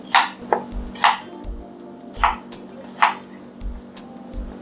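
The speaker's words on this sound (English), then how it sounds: "First, I'll be chopping my onion." Knife chopping onion on a board, several sharp irregular cuts with low thuds, up close, over a faint steady hum.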